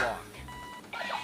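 A toy alarm clock shaped like a race car rings with steady electronic tones, briefly and fairly loud, with a brighter burst near the end.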